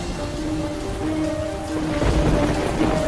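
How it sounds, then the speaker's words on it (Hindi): Heavy rain pours down steadily in a dense, constant hiss, with a low rumble of thunder swelling toward the end and no voices. "ये बारिश तो रुकने का नाम ही नहीं ले रहा है"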